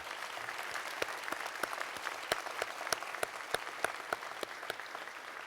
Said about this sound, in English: Let's give a round of applause to this university.